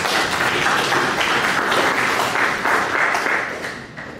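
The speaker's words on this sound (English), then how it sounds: "You can clap for these results." Attendees at a stakeholders meeting on safer births give a steady round of clapping that stays even for several seconds, then fades out toward the end.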